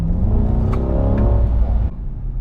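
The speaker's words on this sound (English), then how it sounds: "it accelerates hard for" A C8 Corvette Z51 with the 495-horsepower LT2 engine accelerates hard in a loud, close, rising roar that cuts off abruptly near the end, leaving a low rumble.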